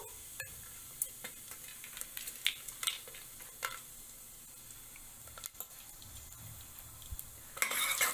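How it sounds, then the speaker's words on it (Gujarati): A tablespoon of cumin seeds crackling in hot ghee in a pan for a fenugreek-leaf khichdi: a quiet steady sizzle with scattered pops and light stirring clicks, building briefly louder at the end, with no talking. "તેની અંદર એક ટેબલ સ્પૂન જીરું ઉમેરવું સરસ આવી રીતે તતળે"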